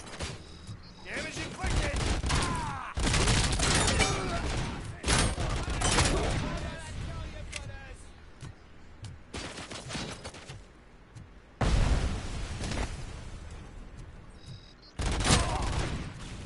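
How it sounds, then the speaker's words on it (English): Video game combat on PS5 with loud bursts of automatic gunfire and booming grenade explosions, intermittent blasts separated by brief lulls, with voices talking in places. "You and your damn grenades, I tell you."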